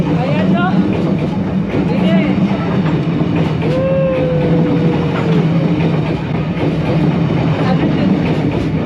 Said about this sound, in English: once the train has gone, the spectacle disappears almost instantly